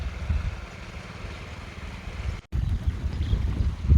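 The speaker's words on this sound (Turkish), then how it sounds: "Arkadaşlar motor geliyor diye uyandılar şimdi." A motorboat engine drones steadily across open water, a low continuous rumble that briefly cuts out and then returns, louder near the end as the boat approaches.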